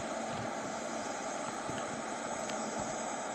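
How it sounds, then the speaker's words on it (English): An airplane in the Infinite Flight simulator game roars with reverse thrust, a loud, continuous broadband engine rush that holds steady throughout. "So I'll show you what the reverse thrust will do."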